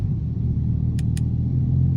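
A Lamborghini Huracan engine runs in sport mode, a loud, steady low rumble close by with two brief high clicks partway through.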